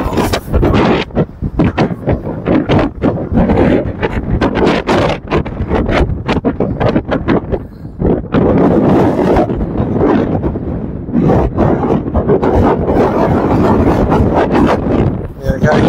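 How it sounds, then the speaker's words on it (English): Strong wind buffets the microphone outdoors near a windmill on Lanzarote, a loud, constant roaring rumble with gusty surges, while people talk through it. "The wind is just..."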